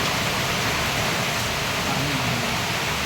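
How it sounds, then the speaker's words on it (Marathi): Rain begins falling outdoors, a steady, loud, broadband hiss that holds evenly throughout, with a faint voice briefly audible underneath. "पावसाने पण मस्त सुरुवात केली आहे"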